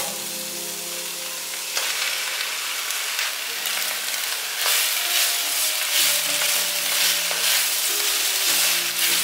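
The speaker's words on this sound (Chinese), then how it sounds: "把杏鲍菇放进来， 略炒一下，可以把腐竹放进来" King oyster mushrooms and tofu skin stir-fried in a hot pan, with a steady close sizzle and crackle throughout, and louder bursts of frying and scraping as the food is stirred and tossed.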